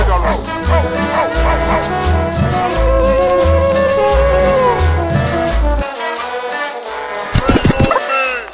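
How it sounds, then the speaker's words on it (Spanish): A dog barks several times over loud, rhythmic sonidero sound-system music with a heavy beat, followed by a few sharper yips near the end. "oiga el perro"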